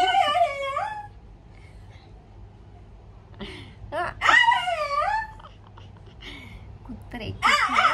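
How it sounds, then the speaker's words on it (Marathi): A dog whimpers and whines in high, wavering cries, several drawn-out bouts close by, with quieter pauses between them. "कुत्रे"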